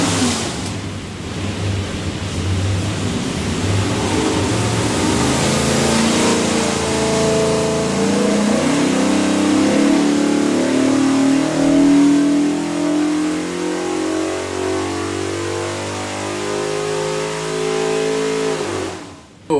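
A Shelby aluminum-block V8 with a front sump oil pan, fitted to a '68 Mustang, revs on a dyno. It climbs in one long, loud pull from a low rumble to a high wail, then cuts off abruptly.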